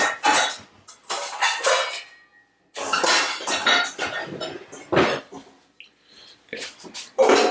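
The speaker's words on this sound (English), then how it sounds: "I'm actually going to get a bigger bowl for this before I try to mix this." Ceramic and metal kitchenware clatters in bursts of clinks and knocks as a bigger bowl is fetched for mixing a fruit salad, loud and close with brief pauses between.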